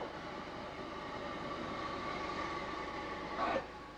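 A historic Scottish steam-era locomotive, the Caledonian Single, at an exhibition beside Kelvin Hall Station in Glasgow, gives a steady, moderately loud rumble with faint tonal hum, swelling briefly near the end.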